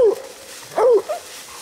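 Bluetick hunting dogs barking and yipping nearby at raccoons up a tree: a short bark, a louder drawn-out bay, then a brief yip, outdoors with no talking.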